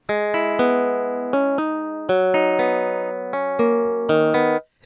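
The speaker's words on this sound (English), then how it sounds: "I have Strum Session, which is not the best VST for guitar melodies. It's just not good, as you can hear." Strum Session VST guitar melody played in FL Studio: a bright, synthetic plucked-guitar line of repeated sustained notes and chords in a steady loop, loud and clean with no voice.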